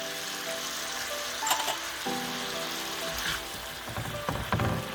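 Soy sauce and Worcestershire sauce sizzle with beef strips in a hot pan, a steady crackling fry with a few sharper spits and stirring clinks, moderately quiet and alone.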